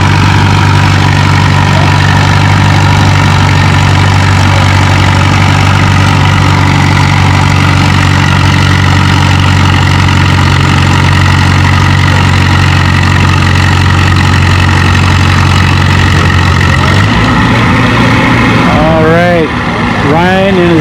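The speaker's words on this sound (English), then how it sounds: "Ryan in his diesel Massey gets stopped at 164 feet." A diesel Massey Ferguson tractor at a tractor pull holds a loud, steady low engine drone under the load of the sled, dropping in pitch near the end as it bogs down, with an announcer talking over it.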